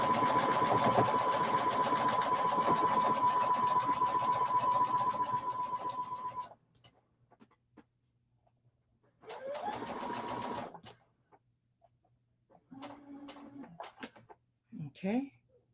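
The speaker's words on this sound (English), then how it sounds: "So I just stitched those two together." A sewing machine runs steadily for about six seconds while stitching quilt blocks, then stops; a second shorter burst of stitching follows, with quiet handling noises and brief talk near the end.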